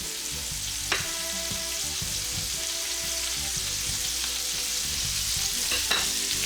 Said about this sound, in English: cut pieces of butter. Throw that around the fish.